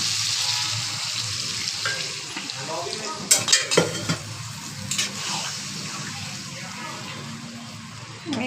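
Water poured into a pan of frying chicken gravy for a desi-style chicken curry, giving a steady broadband sizzle and hiss with a brief burst of louder splashing and bubbling midway.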